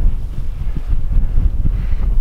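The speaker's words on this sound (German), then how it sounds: "Inzwischen ist es auch ein bisschen windig geworden" Wind buffets the microphone on an exposed mountain summit trail, a loud continuous low rumble with gusty swells and no voices.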